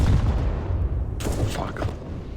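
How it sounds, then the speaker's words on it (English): A flashbang grenade goes off in Counter-Strike: Global Offensive: one sharp, bright burst midway through, over a continuous low rumble of game noise. "I'm throwing a flashbang."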